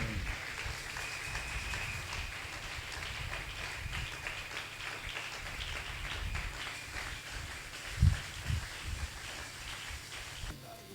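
Congregation applauding during a French-language church service on overcoming witchcraft through the Holy Spirit, a steady, even wash of many hands clapping throughout, fairly distant and diffuse, with a couple of louder thumps near the end.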